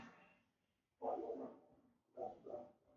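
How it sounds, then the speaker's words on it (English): A neighbor's dog barks a few times outside at a distance, short bursts separated by pauses, fairly faint. "there's some dog barking outside"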